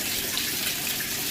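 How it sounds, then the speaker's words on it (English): A Kenmore washing machine set to a large, fast load fills with water, giving a brief, steady rushing hiss close by with no voices. "it does in fact fill up with water like it's supposed to"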